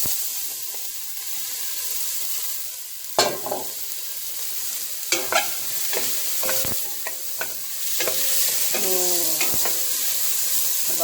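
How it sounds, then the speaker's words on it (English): Onions, garlic and ginger sizzle in hot oil for a lentil curry, a steady close frying hiss broken by scraping spoon stirs and clinks against the pan. "the onions, garlic, and ginger are cooking behind me"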